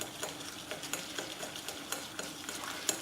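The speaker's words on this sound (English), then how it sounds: "Now we will whisk both of them very nicely till it turns nice and creamy." Biscuit batter ingredients whisked by hand in a bowl, a soft, rhythmic scraping and clicking of strokes repeating steadily; close but quiet, no voices.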